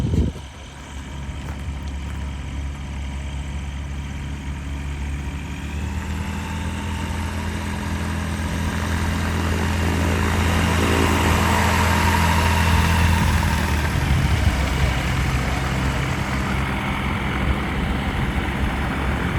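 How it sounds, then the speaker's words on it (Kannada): A microflight aircraft's engine drones loudly and steadily during takeoff at a Bangalore airfield. The pitch and volume build gradually over about twenty seconds as the engine powers up. "ಟೇಕ್ ಆಫ್ ಆಗ್ತಿದೆ ಪ್ಲೇನ್."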